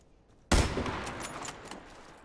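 Gunfire in the Hangar 2.0 shooter game: a sudden loud burst after a quiet start, then a rattle of shots and echoing tail that fades slowly.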